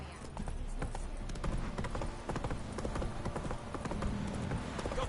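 A horse gallops in The Witcher 3, its hooves pounding out a quick, steady clip-clop rhythm close up under a bed of ambient game noise.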